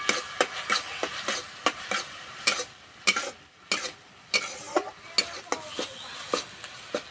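Chhana cooking in a pan until firm, a soft sizzle broken by regular scraping strokes of a spatula against the pan, close and quiet, with no talking.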